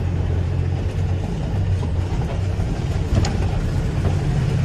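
A 2008 Kenworth T800 truck with a rebuilt 550-horsepower engine drones steadily while driving, giving a loud, continuous low rumble from inside the cab with no talking.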